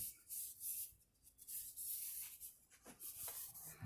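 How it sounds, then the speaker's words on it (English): A blade trims excess masking tape along a guitar neck with soft, close scraping and rubbing strokes in a few short repeated passes, faint and dry. "all you really have to do is go pushing in a downward motion like this, and it will trim off your excess tape"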